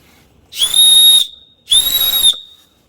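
Two short, shrill blasts from the whistle on a Leatherman Signal multitool, each about half a second long with a pause between, clear and close with no talking.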